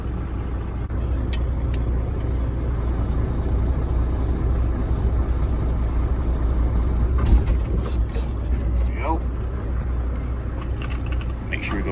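A heavy truck with a trailer pulls away slowly in low gear, its deep engine rumble steady and close throughout, with a few faint clicks and rattles over the drone.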